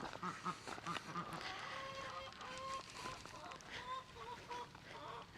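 Ducks and geese in their house call with overlapping quacks and honks, a steady close chorus running throughout.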